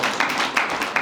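Crowd applause at a conference speech on investment in the DRC: a dense, steady wash of many hands clapping, with a few louder swells, heard alone for about a second.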